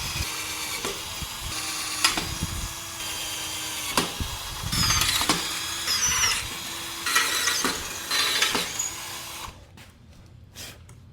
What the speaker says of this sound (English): now we can just go ahead and drill